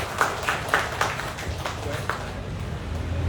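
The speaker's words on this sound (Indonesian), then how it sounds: "tepuk tangan dulu untuk Pak Jenny Akmal" Audience applause for Pak Jenny Akmal at a seminar, a short run of scattered claps, moderately close and fading over a few seconds.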